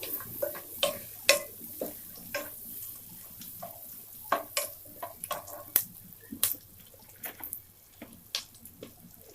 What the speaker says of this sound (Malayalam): ഇപ്പം ഞാൻ 2 മിനിറ്റോളം സവാള ഇട്ടിട്ട് വഴറ്റി കൊടുത്തിരുന്നു